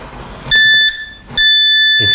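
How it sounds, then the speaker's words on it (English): An electronic stud finder sliding across a bathroom wall gives two loud, sharp, high-pitched beeps, each lasting under a second, separated by a short gap, close to the listener. "So we turn it up so it's just off beeping where there's no stud"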